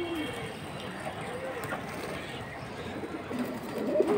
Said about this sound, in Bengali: টিউবলাইট চোখের পাখি কবুতর